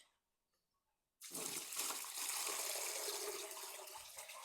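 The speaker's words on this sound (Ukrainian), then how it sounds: "Що, заливаю водою?" Water gushes into a whitewash lime mixture in an old farm shed being turned into a storeroom, starting abruptly after a near-silent moment and pouring as a steady, bright splashing rush to the end.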